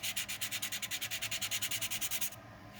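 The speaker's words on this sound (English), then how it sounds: "So this is the final sanding, right? Before primer?" Hand sanding of a scratch-built RC plane canopy before primer, a fast, even back-and-forth rasp of about twenty strokes close to the microphone, stopping abruptly near the end with no talking.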